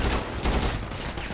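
Rapid gunfire bursts from a GTA 5 roleplay shootout, dense and continuous for the whole stretch, loud and close with overlapping shots.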